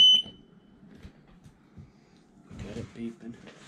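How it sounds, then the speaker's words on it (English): A Rhodan trolling motor powering up on a boat gives one short, high electronic beep at the very start, followed by someone talking nearby. "You hear the beep?"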